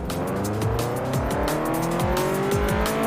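Cars race in the video game Forza Horizon 4, a loud continuous engine roar with rising and falling revs as gears shift, overlapping motors and occasional tire squeal, with no talking.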